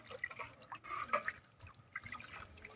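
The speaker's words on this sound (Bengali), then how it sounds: "পাতাগুলো জলে ভালো করে ধোয়া হচ্ছে।" Pumpkin leaves being washed by hand in water, with faint, irregular splashes and drips close by, quiet and intermittent.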